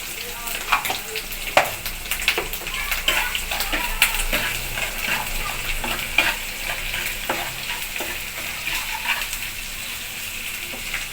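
Chopped onions sizzle loudly in hot oil with salt added, a steady crackling fry broken by frequent spatula scrapes and stirring knocks close to the pan.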